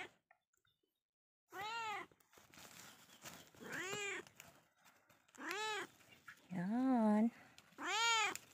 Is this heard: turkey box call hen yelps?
no